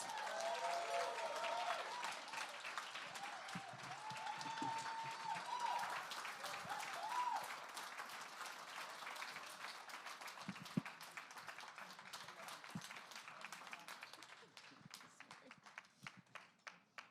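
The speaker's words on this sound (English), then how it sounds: "Give it up right now for Diana Rodriguez." Applause from a gala audience honoring Diana Rodriguez, a dense sustained wash of many hands clapping that thins into scattered claps near the end, with faint cheers and some background voices.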